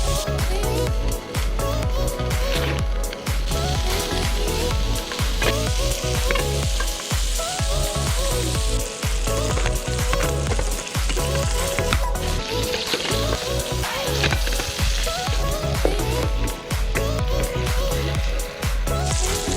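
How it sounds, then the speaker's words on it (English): Langoustine fries in a pan outdoors for tacos, giving a loud, steady sizzle with frequent clicks and scrapes of stirring throughout. "It's time to fry it."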